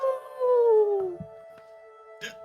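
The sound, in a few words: person imitating a dire wolf howling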